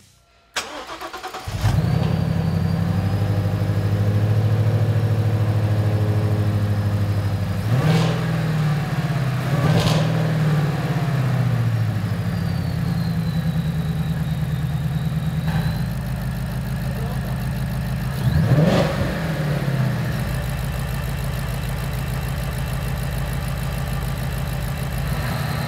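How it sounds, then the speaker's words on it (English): A 2015-2017 Ford Mustang GT 5.0L V8 with a Ford Racing Roush Phase 1 supercharger cranks and fires up, settles into a close, throaty idle, then gets several sharp revs with whine, dropping back to idle each time. "Finally, the moment of truth,"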